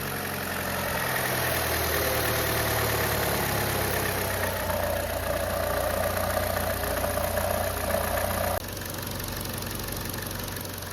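A 2011–2015 Chevy Cruze 1.4T engine idles steadily while warming up after a water pump and belt tensioner replacement, giving a continuous close, even hum with a faint knocking texture and a slight drop in tone near the end.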